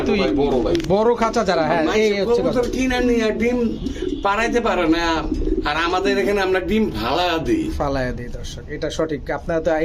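Domestic pigeons in breeding mode coo in low, throaty, repeated phrases close by, mixed with talking voices throughout.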